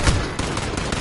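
Rapid automatic gunfire from a gun in Call of Duty, a dense continuous burst of shots close up and loud, filling the whole moment with no talk over it.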